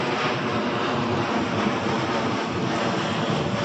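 Steady, loud broadband roar of a passenger jet landing at Toronto airport, a continuous engine and airflow rumble heard from inside the cabin with no break or change.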